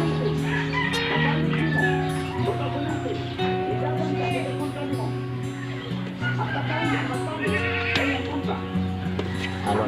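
Goats bleat repeatedly amid a busy barnyard while being offered silage mixed with molasses, with roosters and other fowl calling, while a voice talks over the din nearby.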